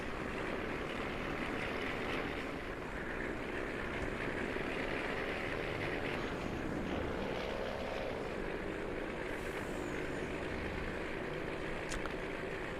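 A TLX 9000 truck with a real Cummins engine and Jake brake runs at full speed in Farming Simulator 19, a steady, loud engine and road drone holding without pause.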